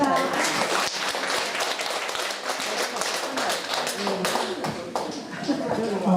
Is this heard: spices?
no